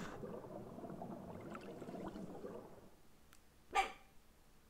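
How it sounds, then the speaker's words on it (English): A single short dog bark rings out alone near the end, following a stretch of low background rumble. "Shut up, dog."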